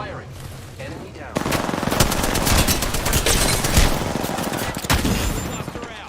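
Sustained automatic gunfire in a squad-based shooter video game, loud, dense rapid bursts after a quieter start, with game voice callouts mixed in.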